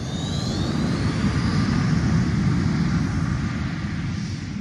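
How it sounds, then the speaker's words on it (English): Su-30 Mk2 fighter jets taking off one after another at Kep Airfield, a steady loud broadband engine roar with a faint rising whine, continuous and sustained with no voices. "groups of fighters jets take off one after another, with roaring engines fueling the excitement at Kep Airfield"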